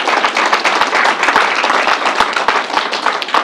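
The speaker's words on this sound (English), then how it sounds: "Give the whole group and the National Guard a round of applause" A crowd at a coronavirus briefing claps loudly for the National Guard and a vaccination site team, a close, dense and continuous burst of applause with sharp individual hand claps standing out.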